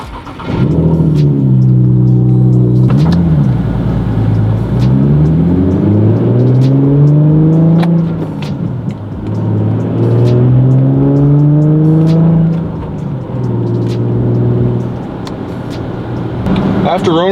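A Nissan G37/370Z engine with a freshly upgraded clutch starts and idles, then revs up and down several times, loud and close, with the pitch rising and falling in smooth sweeps.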